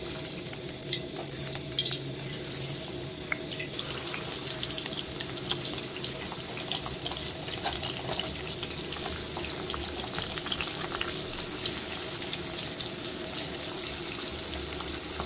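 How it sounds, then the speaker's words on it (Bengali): Shing fish fry in oil seasoned only with turmeric and salt, giving a steady, dense crackling sizzle that holds evenly throughout with no voices. "শুধু হলুদ আর লবণ দিয়ে আমরা আজকে মাছটাকে ভেজে নেব"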